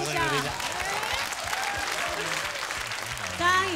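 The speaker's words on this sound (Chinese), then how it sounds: "掌声鼓励一下" Studio audience of a Taiwanese variety show bursting into sustained applause, dense even clapping that fills the whole stretch, with a voice speaking faintly over it near the start and end.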